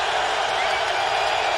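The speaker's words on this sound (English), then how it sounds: "This crowd is energized." Football stadium crowd cheering at an NFL game between the Buffalo Bills and Baltimore Ravens, a dense, loud, sustained roar of a large crowd with no individual voices standing out.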